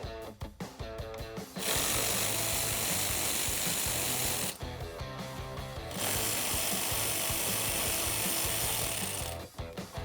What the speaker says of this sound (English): So I'm going to take a T25 Torx socket and we can remove the 4 bolts that are holding that in.